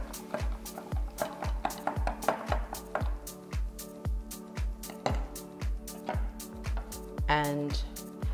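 A spoon clinks repeatedly against a mug while honey is stirred into hangover coffee, a steady rhythmic tapping of about two strokes per second, close and fairly quiet, with a brief higher squeak near the end.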